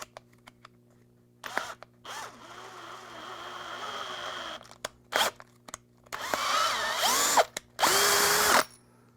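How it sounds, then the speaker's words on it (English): Short whirring power-tool bursts come from an M4 tap cutting threads into side holes on a proton pack build. Several separate runs start and stop with quiet gaps between them, and the longest, loudest ones come near the end. "These side holes need to be tapped, so I've got an M4 tap right here."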